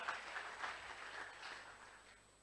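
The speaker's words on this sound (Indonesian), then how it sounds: "Oh, tepuk tangan, haleluya" Church congregation applauding during a Christmas sermon, a steady wash of many hands clapping at moderate distance, sustained evenly for a couple of seconds with no speech over it.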